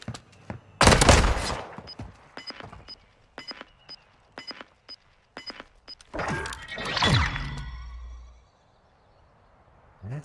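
In the video game Modern Warfare 2, a loud burst of gunfire opens, followed by a steady series of evenly spaced single shots and another heavy volley that fades into near silence.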